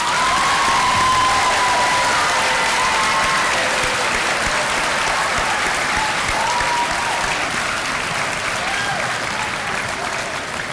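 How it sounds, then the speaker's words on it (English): Students at a school EXCEL award event clap and cheer for their teacher, a dense, sustained wash of applause with a few shouts and whoops mixed in, loud and steady across the whole stretch. "You can clap for that one."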